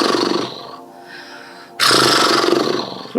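Horse-face breathing exercise in which the lips flap loosely as air is blown out through relaxed tongue and jaw: a buzzing, fluttering rumble in two close, sustained bursts, the second louder, with no talking.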